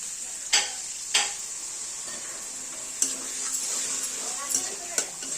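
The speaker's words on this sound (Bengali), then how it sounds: "ভালো করে ভেজে নেবো মশলাটা কষিয়ে নেবো" Spice masala fries in a pan while a spatula stirs it, soft sizzling underneath with several sharp scrapes and clinks of the utensil against the pan at irregular intervals.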